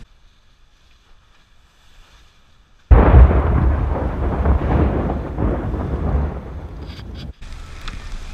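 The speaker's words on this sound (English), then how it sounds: "And we get our first summer storm, even though it's not very warm. Lots of lightning, right?" A loud, sudden rumble of thunder breaks over a near-silent stretch during a summer storm, heard from aboard a sailing boat in the Aegean among the eastern islands, then rolls on as a sustained low roar before a brief drop and return.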